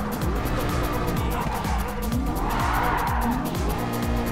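A Ford GT drifts in Gran Turismo Sport, with engine revs rising and falling through gear changes and tire squeal smeared across a loud, continuous racing soundscape.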